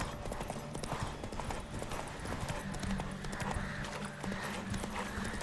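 A horse gallops in The Witcher 3, its rhythmic hoofbeats clip-clopping steadily and close alongside background game sound, with no talk over it.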